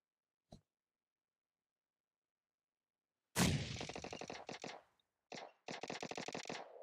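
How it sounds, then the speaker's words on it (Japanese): Automatic weapon fire in PUBG Mobile: a faint single shot, then after a pause a loud close burst of rapid gunfire with short breaks, ending in another sustained volley. "めっちゃ銃撃ってるやつ、俺"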